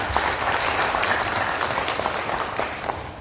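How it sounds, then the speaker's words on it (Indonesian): Steady, dense audience applause at an opening ceremony for a Papua cocoa roadmap dissemination event, a continuous wash of many hands clapping close and loud for a few seconds. "Tepuk tangan."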